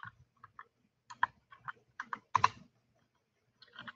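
Keys tapped on a computer keyboard during an HTML/CSS coding workshop: short clustered clicks in uneven bursts with small pauses, close and fairly quiet, no voices.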